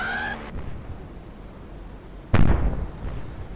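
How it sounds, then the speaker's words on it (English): In the Cold Waters submarine warfare game with the Dot Mod, a faint tone fades out before a sudden loud whooshing burst marks a torpedo launch, which then rumbles on and slowly decays. "let's drop a torpedo on this guy's head then"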